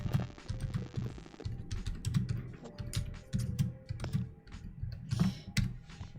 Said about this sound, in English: I can hear frantic researching in the background. Oh, I was typing in the chat.